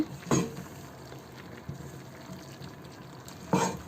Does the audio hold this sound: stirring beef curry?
yes